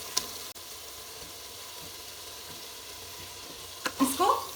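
A spice mixture for aloo dum biryani cooks over medium flame, giving a low steady sizzle that swells into louder bursts of frying and stirring near the end.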